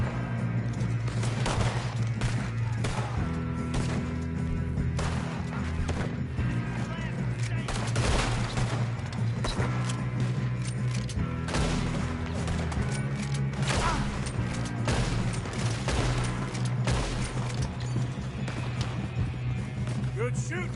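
Repeated gunshots and volleys crack loud and close through a western shootout in Red Dead Redemption 2, firing nearly nonstop over a low musical drone while voices talk between the shots.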